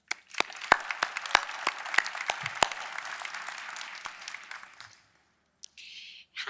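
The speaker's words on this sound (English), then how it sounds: "let's give a round of applause for the panelists" Audience applause for a panel at a tech forum, a dense patter of many hands with sharp individual claps standing out, lasting about five seconds before cutting off abruptly.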